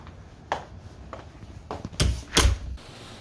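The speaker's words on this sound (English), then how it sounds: "Do you need to close the door?" A door bumps and clatters shut indoors in a room, several knocks building to two louder thuds near the end, close by and with no talk.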